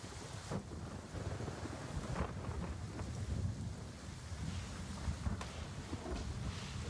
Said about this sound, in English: a thunderstorm.